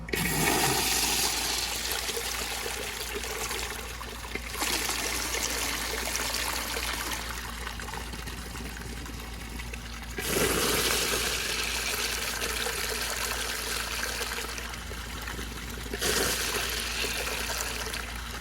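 A Universal Rundle Colburn urinal flushes on a piston flushometer, a loud rushing gush of water that runs continuously with surging swells and a trickling drain, close and with no voices.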